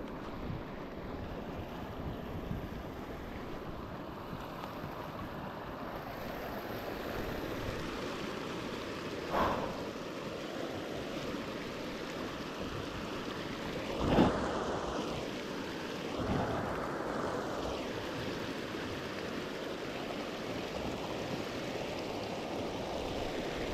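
Water rushes and churns continuously as a stream is crossed, a broad, steady wash of flow mixed with wind buffeting the microphone and a few splashy surges.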